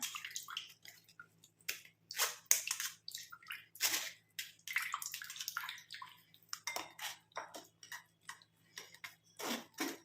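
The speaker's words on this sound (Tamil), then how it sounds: "இந்த மாதிரி ஃபில்டர் பண்ணி ஜூஸ் மட்டும் நம்ம எடுத்து ரெடி பண்ணிக்கலாம்" Herbal juice for a hair remedy being filtered through a strainer, with irregular wet clinks, taps and dripping splashes in a steady scattered rhythm, close and moderately loud, with no talking.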